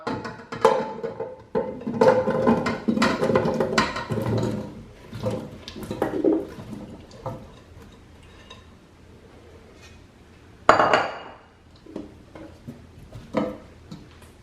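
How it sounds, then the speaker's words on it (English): Potatoes being added to a pot while making creamy mashed potatoes, a run of knocks and thuds in clusters, busiest early on, then sparser bumps and clinks with quiet gaps between. "All right, so I'm gonna add the potatoes to the pot."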